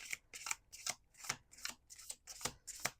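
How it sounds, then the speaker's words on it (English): Rapid rhythmic riffling of a deck of cards being shuffled, a quick series of crisp flutters close by with no voices. "Let's do one more shuffle."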